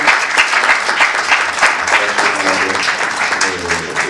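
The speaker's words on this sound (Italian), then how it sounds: "Un nuovo applauso professore, grazie." Conference audience in a municipal auditorium applauds after a talk on the Shroud of Turin: dense, steady clapping from many hands that fills the whole stretch, close and loud.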